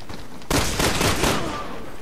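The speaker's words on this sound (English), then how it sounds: "Can I shoot from under here? Yes, I can." Gunshots in the video game Resident Evil 6, Leon's campaign: a sudden loud volley of rapid shots that bursts in after a quiet half second and rings out over the rest of the clip.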